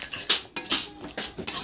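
A utensil stirs cumin powder into a pan while a spicy tangra fish curry is cooked, giving four or five distinct metallic scrapes and clinks close by, with brief pauses and no speech.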